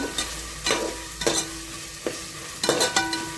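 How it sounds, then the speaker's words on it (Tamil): Ginger garlic paste fries in a pan with onions for mushroom biryani, a spoon scraping through it in several distinct stirring strokes over a continuous close sizzle. "நான் நிறையவே சேர்த்துருக்கேன் இஞ்சி பூண்டு பேஸ்ட்டு"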